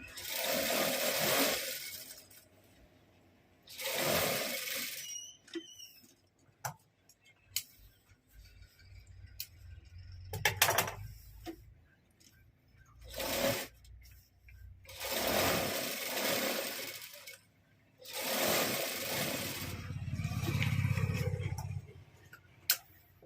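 A sewing machine stitching a Rajputi kurti runs in several loud bursts of a few seconds each, separated by quiet pauses with small ticks and clicks of the mechanism, close to the listener.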